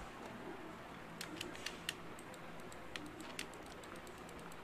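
Keyboard typing into Minecraft chat, a run of light clicky keystrokes in short bursts over a steady background hum, fairly quiet and close.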